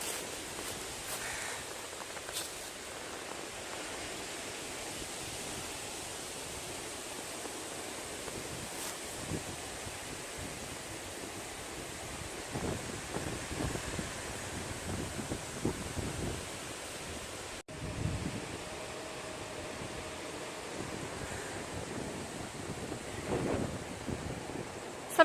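Wind sweeps across a hillside on the Appalachian Trail near Niday Shelter, a steady low rushing roar that buffets the microphone for the whole stretch, with occasional stronger gusts and no voices.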